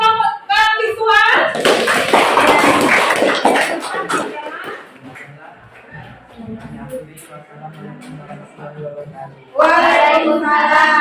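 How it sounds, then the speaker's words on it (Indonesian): Schoolchildren in an Indonesian classroom clap for a presentation group, a burst of loud clapping that fades into scattered claps and chatter, with voices talking before and after. "Oke, tepuk tangan buat kelompok visual."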